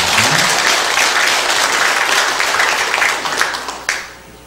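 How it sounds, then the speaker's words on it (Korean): A church congregation at Sunday worship claps warmly after a praise song, a full, dense wash of applause that holds steady and then thins and fades toward the end. "힘찬 한번 격려의 박수 부탁드립니다."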